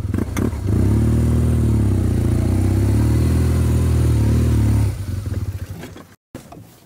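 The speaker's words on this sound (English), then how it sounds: "The bike tipped over when I dropped it on the hill." An adventure motorcycle tipping over on a steep wet grass hill: a loud, close engine roars steadily, then abruptly cuts to rough clattering and scraping before a brief silence.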